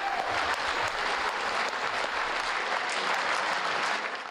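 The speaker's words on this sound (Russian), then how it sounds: "я так хлопала" Steady, dense applause fills a festival concert hall, a large audience clapping continuously at full strength with no break or voices rising above it.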